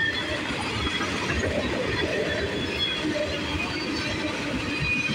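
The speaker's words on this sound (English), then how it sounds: "it's a freight train." A CSX northbound freight train rumbles past in Carlisle, Ohio, with a continuous rolling clatter of wheels on rails and faint metallic squeals, at moderate distance.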